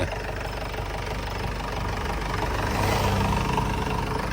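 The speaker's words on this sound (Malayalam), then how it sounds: "ഇതിപ്പോ ഡി എ എഞ്ചിനാട്ടോ അത് എത്ര നല്ല സ്മൂത്ത് സൗണ്ട്" A diesel jeep engine, reworked at a local workshop, idles steadily and loudly up close, a continuous low rumble with a slight knocking texture and no talk.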